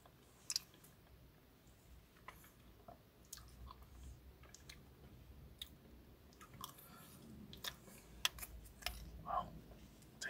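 Crunchy bites and wet chewing of a large chocolate sundae with chocolate sauce, close and intimate, coming as irregular clicks and smacks over a quiet background, with no talking.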